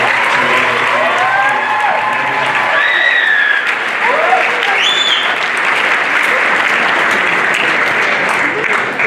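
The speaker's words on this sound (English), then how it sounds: "So a round of applause for the high school students as well as the middle school students." Sustained audience applause at a high school winter band concert, with dense clapping from a large crowd that stays loud and steady throughout while faint voices and whistles rise above it.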